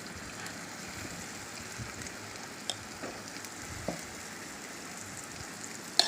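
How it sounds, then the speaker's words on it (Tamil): Paniyaram batter sizzles in hot ghee in the wells of a kuzhi paniyaram pan, a steady, even frying hiss that runs throughout, with a few faint clicks near the end. "நெய் விட்டுட்டு நல்லா சூடானதுமே எல்லா குழியிலையும் நல்லா புசுன்னு மாவு ஊற்றிக்கோங்க."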